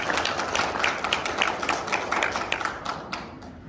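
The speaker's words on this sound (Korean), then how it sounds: "다시 한번 여러분 큰 박수 부탁드리겠습니다" Audience clapping steadily after a forum lecture, a dense patter of many hands that holds at moderate loudness and then thins out toward the end.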